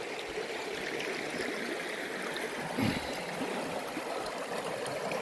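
River water flowing over rocks in the hills near a small tribal village, a steady full rushing wash with constant bubbling and no break, close and even throughout.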